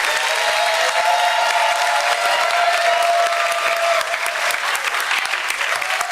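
Church congregation applauding the Reedus family as they are brought up, a full, sustained roar of clapping from a large crowd with light cheering, steady and loud throughout.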